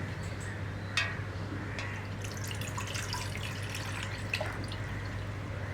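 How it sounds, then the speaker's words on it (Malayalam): Coconut milk strained into another vessel gives faint trickling and dripping liquid sounds, with a few soft splashes over a low steady background hum and no talk. "ഞാൻ ഈ പാലൊന്ന് അരിച്ച് വേറെ പാത്രത്തിലേക്ക് മാറ്റാൻ പോവാണ്."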